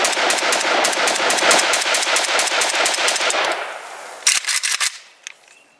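Romanian AES-10B RPK rifle emptying a magazine at an outdoor range: a loud, sustained rapid burst of gunfire for about four seconds, then a few separate closer shots and a last faint pop as it trails off.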